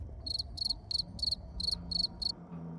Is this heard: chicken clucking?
no